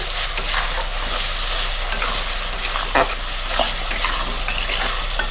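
Chicken being stirred with salt in a hot pan makes a loud, close sizzle with scraping and stirring strokes, including a sharper scrape near the middle.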